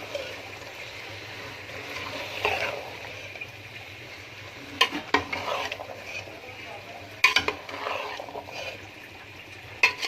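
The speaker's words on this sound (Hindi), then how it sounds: "अब इसमें हम डालने जा रहे हैं गोभी।" Cauliflower goes into a pan of hot oil and spices for aloo gobi and is stirred. Soft frying and scraping sounds run under occasional sharp clinks and knocks of a utensil against the pan.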